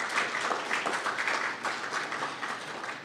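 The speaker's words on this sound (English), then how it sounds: "Could we give our three presenters a round of applause?" Audience at a health ministry research day gives three presenters a round of applause, moderate steady clapping from a modest crowd that holds evenly and begins tapering at the end.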